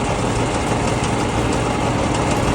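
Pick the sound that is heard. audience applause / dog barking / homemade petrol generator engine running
homemade petrol generator engine running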